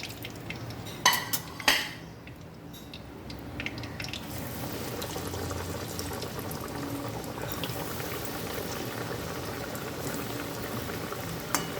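Fish pieces frying in oil in a home kitchen, browned a second time over moderate heat: a steady low bubbling sizzle runs throughout, with a few sharp clinks from a utensil near the start.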